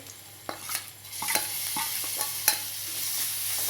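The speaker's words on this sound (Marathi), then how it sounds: "हिरवी मिरची आणि लसूणची पेस्टी करून घेतली होती ती भाजून घ्यायचे" Green chili and garlic paste being stirred and fried in a pan for soybean bhurji, with scattered scraping stir strokes over a soft, steady sizzle, close and moderately loud, no talking.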